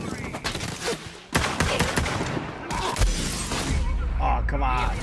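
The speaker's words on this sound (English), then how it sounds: "He's shooting me" Enemy gunfire in the video game Borderlands 3, with sharp bursts and shots throughout, loud and close, and a steady low rumble starting partway through, with talk mixed in.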